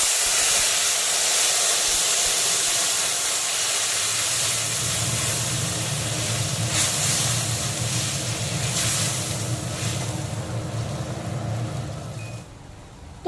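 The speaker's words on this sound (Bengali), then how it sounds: "এখন আমশি গোলা জলটা আমি দিয়ে দিচ্ছি কড়াইতে।" Water soaked with dried mango (aamshi) goes into a hot kadai of lightly fried panch phoron over full flame, giving a strong, close, steady hiss and sizzle with a low bubbling rumble that fades slightly toward the end.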